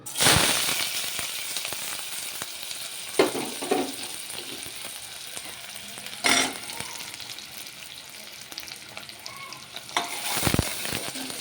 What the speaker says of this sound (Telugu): ఉల్లిపాయలు ఈ విధంగా వేరుతున్నాయి